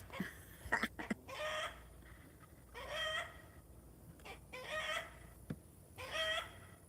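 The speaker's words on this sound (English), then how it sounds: "The chicken, he's not happy right now." A rooster crows repeatedly in a farmyard where a chicken and a duck are penned together, sounding agitated: four drawn-out calls at steady intervals, each broken up by short clucks, heard fairly close and with no talking over them.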